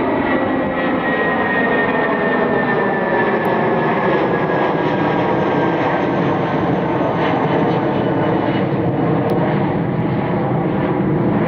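A jet airliner passes at Cleveland airport with a loud, sustained broadband roar and a faint high whine, holding steady and close throughout with no voices.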